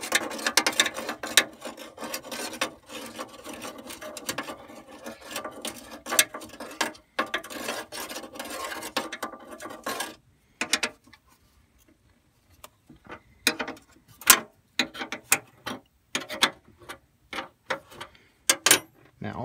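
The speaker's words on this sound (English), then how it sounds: "Use the trusty 10mm that everybody loses, 10mm wrench, just to break these guys loose." Rapid ratcheting clicks from a 10mm wrench loosening bolts, steady close bursts with brief pauses in between, then sparser isolated clicks and taps near the end.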